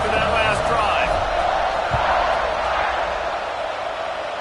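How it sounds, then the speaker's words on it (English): A packed college football stadium crowd for Notre Dame against Michigan roars continuously at kickoff, a dense wall of cheering and whoops with a commentator talking over it. "this crowd is feeling themselves after that last drive"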